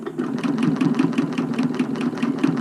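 A BERNINA Q 24 longarm quilting machine runs slowly while stitching in the ditch, giving a steady, close mechanical hum with regular rapid needle pulses throughout.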